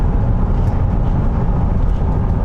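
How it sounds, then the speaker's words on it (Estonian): Third-generation Lexus GS with a V8 accelerating, heard from inside as a steady, muffled low engine and road rumble that holds fairly even without rising into a loud roar. "Ja nüüd, kui korra seda V8 vajutada, siis ta ärkab väikse viitega, aga okei, kiirus läheb siin üsna kähku"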